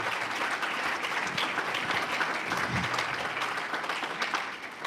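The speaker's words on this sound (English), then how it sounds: "And that's worth applause." Sustained, dense applause from a crowd at a county budget town hall meeting, steady and fairly distant, with no voices on top.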